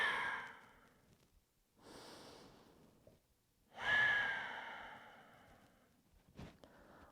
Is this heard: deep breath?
yes